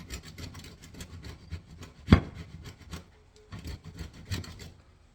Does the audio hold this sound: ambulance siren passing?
no